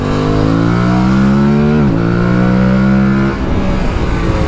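Aprilia Tuareg 660 (2023) adventure motorcycle accelerating on a dirt trail, a loud close engine climbing steadily through the revs, dropping briefly at a gear change, then pulling again and easing off.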